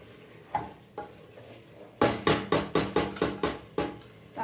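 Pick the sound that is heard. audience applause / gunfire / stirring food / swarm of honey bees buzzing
stirring food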